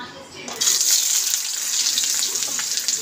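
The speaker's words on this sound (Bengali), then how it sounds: "এবার পেঁয়াজটা দিয়ে দেবো।" Onions hit hot oil for a mushroom chicken dish, a sudden loud hiss after a quiet half second that settles into steady, close sizzling and crackle.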